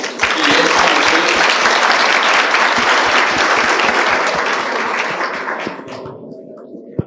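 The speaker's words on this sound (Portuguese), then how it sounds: "Pessoal, uma salva de palmas para os nossos clientes." Loud, dense applause from a conference audience cheering the clients on a panel at UserConference Brasil 2023. It holds steady for about six seconds, then thins out to a few last claps.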